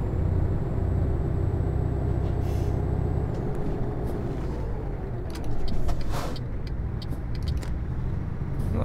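A truck engine in Euro Truck Simulator 2 gives a continuous loud low rumble as the vehicle accelerates, with a brief hiss like an air brake partway through.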